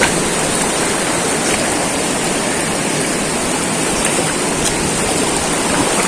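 A river rushes in a steady, loud, unbroken roar near a waterfall in General Nakar, Quezon, with no voices or other sounds over the flowing water.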